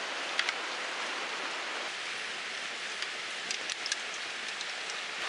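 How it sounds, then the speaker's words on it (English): Steady hiss of rain falling close by, with faint scattered drips and ticks on a surface, alone without voices. "Sorry about the rain noise"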